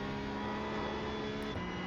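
A Porsche Cup race car engine in iRacing hums with a steady, sustained note at moderate level, with a faint brief shift near the end.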